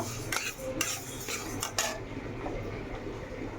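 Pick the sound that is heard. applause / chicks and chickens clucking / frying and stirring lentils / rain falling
frying and stirring lentils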